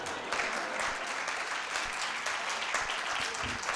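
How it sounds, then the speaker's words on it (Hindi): A mushaira audience in Islamabad claps steadily as a dense, fairly distant round of applause, with a few faint voices underneath. "बजा लें खुल के तालियां, बजा लें बजा लें।"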